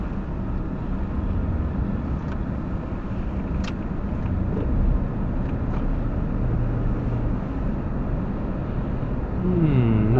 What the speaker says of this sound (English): Oh, I love driving Mercedes-Benz.